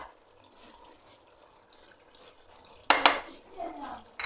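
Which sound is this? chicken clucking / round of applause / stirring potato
stirring potato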